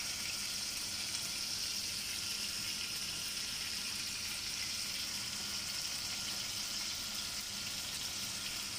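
Boneless chicken pieces frying on a tawa over medium flame give off a steady, even sizzle and hiss that holds unchanged at moderate loudness from start to finish, with no voices.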